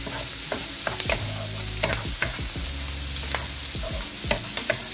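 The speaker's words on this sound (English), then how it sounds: "that in the pot and give that a stir." Tomatoes cooking down in a pot are stirred through a steady loud sizzle, with repeated scraping strokes of the spoon rising above the frying noise.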